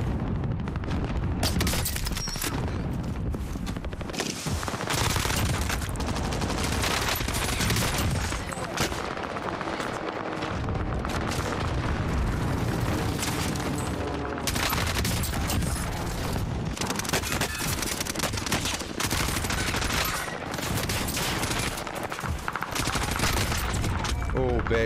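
Dense, continuous gunfire and explosions from the Warzone video game fill the whole stretch, with rapid bursts and booms layered together while players talk over the action.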